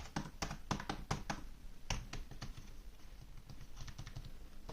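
Key clicks on a Rii wired RGB LED mechanical keyboard from a gaming and office combo set, a quick burst of close, sharp presses followed by sparser taps and a softer patter against quiet room noise.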